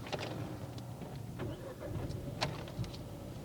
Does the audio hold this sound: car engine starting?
yes